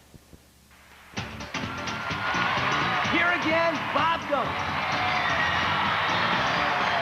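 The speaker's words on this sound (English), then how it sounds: "Oh, what a great crowd we have here" A live crowd at a teen beauty pageant broadcast from a university campus in Las Cruces, New Mexico, erupts into loud sustained cheering, whooping and applause that swells suddenly and holds, with a voice speaking briefly over it.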